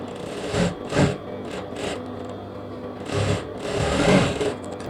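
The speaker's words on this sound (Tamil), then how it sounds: "கட்டை வச்சுட்டு பெரிய தையல் ஒன்று அடிச்சு விட்றேன்" A sewing machine stitches a cotton nighty in several short whirring bursts separated by brief pauses, close and clear with no voices.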